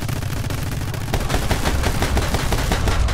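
Rapid bursts of gunfire from bullets in the action shooter My Friend Pedro, a dense, loud rattle of shots that grows heavier and more continuous after the first second, with no voices.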